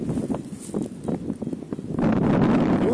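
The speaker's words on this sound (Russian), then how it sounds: "ветер тут гудит вообще просто в проводах" Strong wind blows past high-voltage power lines in the open, a rushing, buffeting roar on the microphone that swells louder and steadier toward the end.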